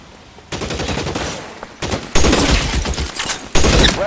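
Gunfire in LA Noire, a video game: loud bursts of rapid shots in several sustained volleys, separated by brief near-silent gaps, with the final volley cut short.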